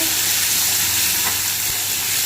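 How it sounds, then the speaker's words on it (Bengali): Spice paste fries in hot oil with onion, bay leaf and panch phoron for dal, giving a loud, dense, continuous sizzle and hiss up close that cuts off abruptly. "এখন বাটা দেব, ভালো করে ভেজে নেব"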